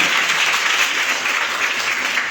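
A seminar audience at a Hindi-language RCM business meeting claps together, a dense, steady wash of applause that holds at an even level throughout with no voices over it.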